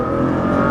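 Tuned 2015 Nissan GT-R with Meisterschaft exhaust and GFB blow-off valves accelerating hard, a loud, close, continuous engine roar filling the whole brief moment.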